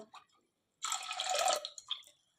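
Water splashes and gushes into a pressure cooker holding wheat in one short, steady pour of about a second, then trickles off.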